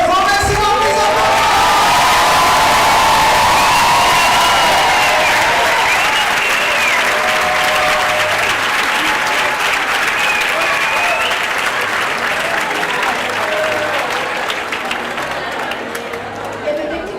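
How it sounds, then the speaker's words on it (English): A large live audience at an international show applauds the team from Mexico with dense, sustained clapping that fills the hall and slowly thins toward the end, while a voice carries over it. "Ladies and gentlemen, from Mexico, please applause."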